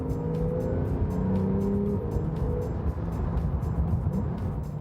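A turbocharged Porsche 911 engine runs steadily and fairly close, a continuous mechanical drone with a layered low hum and faint sustained tones, loud throughout with no speech over it.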